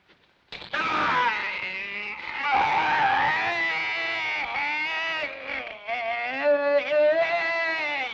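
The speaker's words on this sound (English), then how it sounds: "Scream, you understand? Scream. Scream!" A person in a period drama film screams at length, a loud, close, wavering and strained cry sustained for several seconds with shifting pitch and brief breaks.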